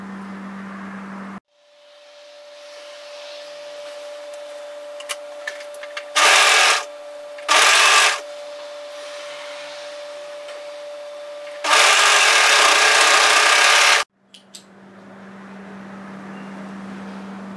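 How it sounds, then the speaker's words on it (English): An overlocker serges the top edge of a wrap hoodie. It starts with a steady motor whir, then runs in several loud bursts, the longest lasting a few seconds, with quieter gaps between them. "So what we're going to do is overlock this top edge."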